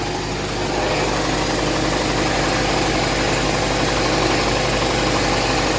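An air compressor runs continuously to supply paint spraying, a loud, steady mechanical drone with a low throbbing hum that stays constant throughout.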